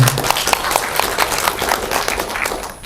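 An audience at a concrete industry workshop in Indonesia breaks into steady, dense applause, many hands clapping together at close range before it thins out at the end.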